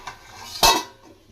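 A lid lands on a pot of Nellore-style fish curry with a single sharp metallic clank, brief and close, then fading over quiet kitchen background.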